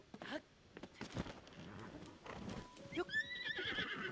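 Horse from the video game Zelda: Tears of the Kingdom, giving a loud whinny near the end after quick clip-clop hoof steps and shuffling movement, with some game effects layered in.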